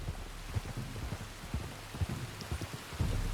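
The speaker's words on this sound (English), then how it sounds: "You were right about the damn rain." Rain falls in a video game as a constant, soft wash of noise, with low, dull thumps scattered irregularly through it and no talking.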